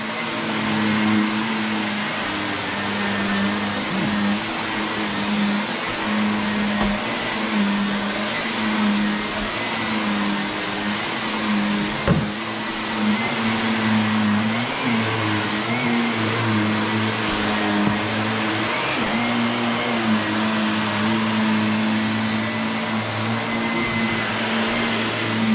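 A Shark Navigator vacuum cleaner runs with its brush roll spinning, giving a steady, close motor hum and whine that holds evenly throughout with no talking.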